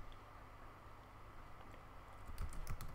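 Quiet computer keyboard typing while entering a name into a playbook file, faint at first, then a quick burst of closer, crisper keystrokes in the last second over low room hum.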